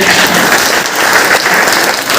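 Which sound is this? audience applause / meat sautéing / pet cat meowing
audience applause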